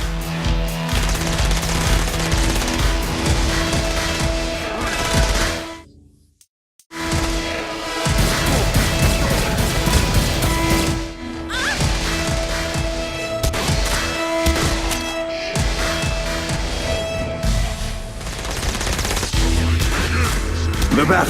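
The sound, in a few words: gunfire and bullets in a battle, from the video game Saints Row: Gat out of Hell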